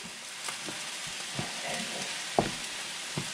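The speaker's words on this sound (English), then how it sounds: "we're just going to stir this all in" Soy sauce stirred into sizzling chicken in a pan for keto General Tso chicken: a steady frying hiss with a few scraping utensil knocks against the pan, close and alone.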